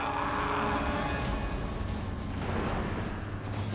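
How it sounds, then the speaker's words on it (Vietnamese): Artillery fire from city walls in the Total War: Warhammer 2 video game, a dense continuous rumble of booms and blasts, loud and sustained with no break. "súng mà bắn từ trên tường thành thì bọn cung là không lại được đâu"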